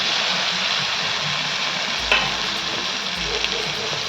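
Pumpkin and drumstick vegetables sauté with spices in oil, giving a steady, close, dense sizzle with a couple of faint scraping stirs, and no voices.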